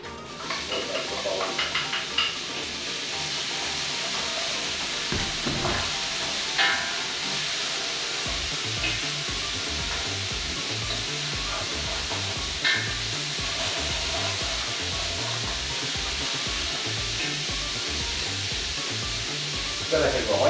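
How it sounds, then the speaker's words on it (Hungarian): Oil heating in a pan for oven-baked stuffed cabbage, giving a steady close sizzle and hiss with some stirring, running the whole time with no voice over it. "Olajat hevítünk."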